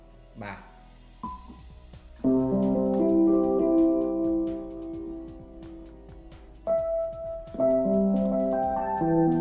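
Casio CDP-135 digital piano on its electric piano voice with reverb added, sustained chords ringing softly and close, with a short pause before a second chord phrase.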